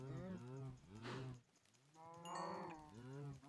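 Cows in the video game Minecraft moo several times in a row, with drawn-out, wavering lowing calls that overlap closely and stand alone without talk.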